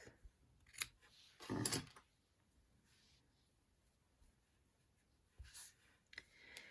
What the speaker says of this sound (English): tie that twice and then snip it off